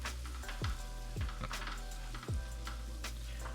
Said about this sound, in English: I'm gonna let the onions cook until they get translucent